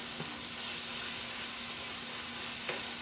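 A pan sizzles steadily after water is poured in and stirred during home meal prep, a soft continuous hiss with faint scraping ticks, close and without talk.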